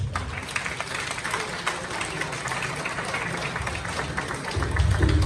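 A crowd at a startup summit in Ghana applauds steadily, dense clapping filling the room at a constant level, with a faint murmur of voices mixed in.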